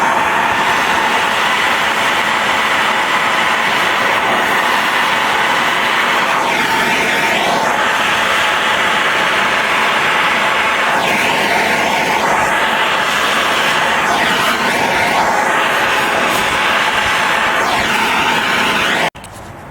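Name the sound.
wire wheel on an air tool removing lead from a Mopar roof seam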